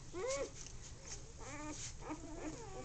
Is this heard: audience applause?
no